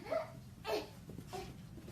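A puppy about to be taken for a walk lets out a few short, soft whimpers and yips, spaced apart and fairly quiet indoors.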